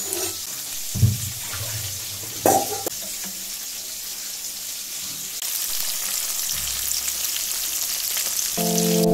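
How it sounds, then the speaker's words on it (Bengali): Fish fritters sizzle and crackle in hot oil, a steady frying hiss with a few clatters and a brief tonal beep near the end. "মাছের বড়াগুলো একদম লাল লাল করে ভাজবো"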